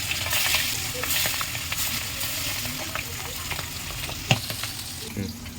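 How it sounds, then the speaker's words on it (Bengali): Hilsa fish pieces rubbed with turmeric and salt fry in hot oil in a kadai, giving a steady close sizzle with scattered crackles and one brief knock of a utensil. "তেলটা গরম হয়ে গেছে"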